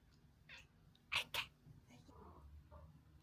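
A pet cat that has just moved to Australia lets out faint, brief meows, with two sharper close bursts in the middle, while soft human voices talk quietly around it.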